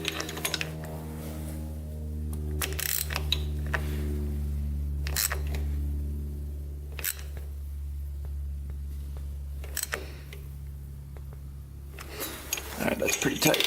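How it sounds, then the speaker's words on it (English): A left-hand thread nut on a Quadzilla Banshee 500cc quad is torqued down with a wrench, giving a few sharp metallic clicks spaced a couple of seconds apart over a steady low mechanical hum. "Just going to torque it down here."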